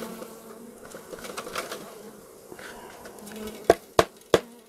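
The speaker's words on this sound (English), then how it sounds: "don't be afraid of the bees" Low buzzing of honey bees hums throughout, followed by three sharp knocks near the end.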